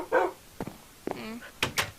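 Minecraft puppies yip and bark in short bursts, several separate barks spread across the moment, with voices of players talking around them.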